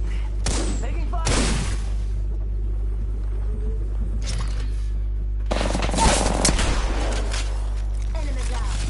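Bursts of gunfire in a shooter video game, with two short volleys early on and a louder, denser burst near the end, set over a steady low rumble.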